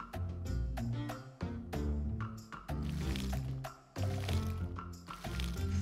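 Watering can being filled in the farming video game Sun Haven, a steady liquid filling sound with squishy, dripping tones, set against continuous game music with repeated rhythmic beats throughout.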